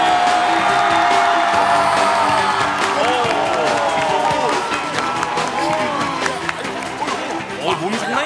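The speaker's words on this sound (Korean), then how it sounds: "큰 박수로 맞이해 주세요" A Korean comedy-show studio audience greets a guest with loud, dense applause and cheering, including whoops. Voices call out over the crowd as it gradually eases off.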